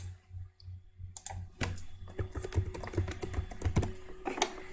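Rapid clicking of a computer keyboard while code is written, a steady patter of close keystrokes after a brief quieter opening, with a low hum underneath.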